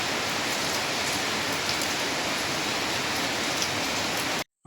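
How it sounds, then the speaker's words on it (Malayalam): Heavy rain falls in a steady, loud, close wash of broadband hiss that continues evenly, then cuts off abruptly at the very end, with no talking. "നല്ല മഴ പെയ്യുന്നുണ്ട് കേട്ടോ"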